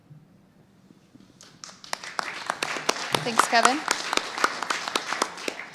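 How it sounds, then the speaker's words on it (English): Audience clapping at the close of a Rocky Flats talk, starting sparse and building into a steady run of close, sharp handclaps, with someone briefly speaking over it. "So while everyone is clapping"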